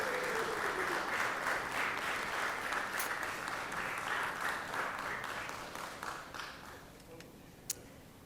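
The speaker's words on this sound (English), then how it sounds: "Let's give her a round of applause" An audience in the Georgia Senate chamber applauds during a legislative session, a steady patter of clapping that gradually fades out, ending with a single sharp knock.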